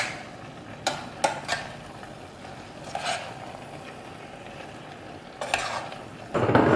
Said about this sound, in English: I'm just going to give it an occasional stir so that the top part actually gets cooked the same amount as the bottom part